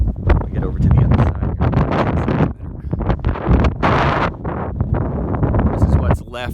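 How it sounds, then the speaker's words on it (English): Strong Mojave Desert wind buffets the microphone in loud, gusty bursts, nearly drowning out someone talking over it. "Sorry about the wind. It's super windy up here in the desert,"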